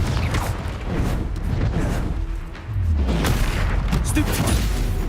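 Confringo spell blasts in the video game Hogwarts Legacy give loud booming bursts and crackling impacts, repeated in quick succession alongside game effects. A player's voice calls out over the noise.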